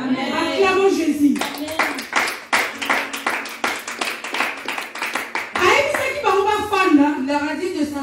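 A church congregation bursts into loud, sustained clapping for several seconds, a rapid dense patter of many hands between stretches of a preacher's voice before and after.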